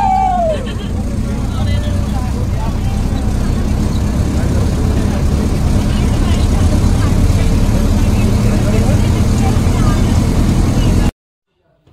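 Steady low engine rumble and road noise fill the inside of a moving bus carrying passengers to a wedding reception, with murmuring voices and chatter mixed in throughout before an abrupt cutoff.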